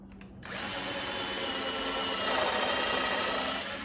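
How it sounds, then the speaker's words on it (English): A screw gun drives screws into wood while building a fruit stand, starting abruptly after a brief quiet moment, then a steady, close whirring buzz that swells slightly before easing near the end. "It's good to have two screw guns"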